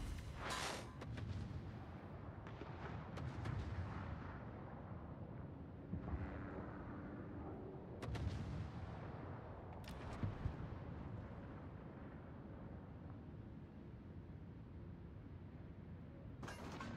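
Heavy battleship guns from a strong Tier 7 battleship in World of Warships roar in repeated salvos, several sharp booms spaced a few seconds apart over a rumbling sea-and-wind background, with no talking.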